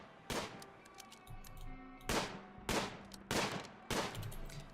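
Gunshots ring out while hunting in the video game Rimworld, five sharp evenly spaced reports with a brief crack and fading tail, fairly loud against a quiet ambient background.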